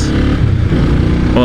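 A 1996 Honda Magna 250cc cruiser motorcycle on stock exhausts idles and rumbles nearby with a low, burbling engine note, heard under someone talking over it.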